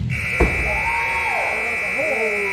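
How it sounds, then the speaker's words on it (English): A steady, piercing buzzer tone sounds continuously over a noisy crowd, with a brief thump near the start. "I heard the buzzer."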